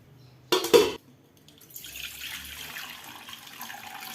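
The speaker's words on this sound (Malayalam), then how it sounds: "വെളുത്ത അവലിട്ട് വെള്ളം ഒഴിച്ച് പെട്ടെന്ന് കൈകൊണ്ട് മിക്സ് ചെയ്ത് വെള്ളം ഊറ്റിയെടുക്കാം" White poha gets a quick splash of water by hand, a short loud burst of sloshing, then a quieter, steady trickle as the water drains away.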